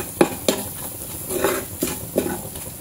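A spoon scrapes and clinks against a pan as a green-chilli tadka for dal khichdi is sautéed and stirred, giving several sharp metallic knocks over a faint sizzle, close and moderately loud.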